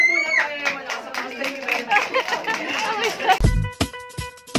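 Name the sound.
people clapping at a birthday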